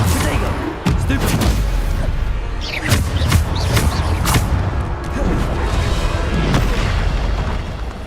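Bombarda explosion spells blasting in Hogwarts Legacy, several loud booms and crashing bursts in quick succession over a dense roar of combat noise, with a voice heard amid the chaos.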